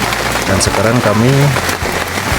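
Steady rain falling on Mount Ciremai at a mountain camp area, a constant broadband hiss of drops under a voice speaking close by.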